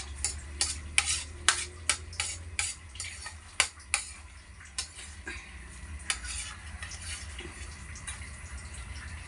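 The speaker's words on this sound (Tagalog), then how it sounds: "nilagay na natin yung itlog na may malunggay" An egg mixed with malunggay leaves sizzles in a pan, with a steady fry beneath a regular series of crisp spatula taps and scrapes that thin out after the first few seconds.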